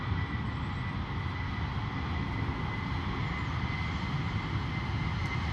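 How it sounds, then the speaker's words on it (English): A Wizz Air A321 jet backtracks along a wet Luton runway, a steady low engine rumble and broad roar holding constant at a moderate distance, with no voices. "Wizz Air 321 backtracking along runway 25 to the turning point."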